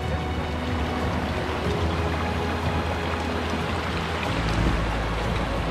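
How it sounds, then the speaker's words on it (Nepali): A river stream being crossed on a motorcycle ride near Kathmandu, with steady, dense rushing and splashing water close by that swells slightly near the end, and no voices. "म चाहिँ यो खोला क्रस गर्छु है।"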